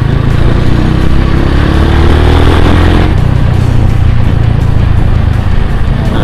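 A Honda GL motorcycle engine revs loudly up close out on the street, a throaty, rising roar that holds, then settles back into a rough, steady idle with no talking.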